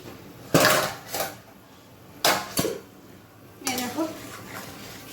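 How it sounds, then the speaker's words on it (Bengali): A metal lid lifted off a pot of simmering mustard-paste fish curry, with several clattering clinks and scrapes of metal on metal, close and fairly loud in a quiet kitchen. "এবার ঝোলের ঢাকাটা খুলে নেব দেখি কি অবস্থায় আছে"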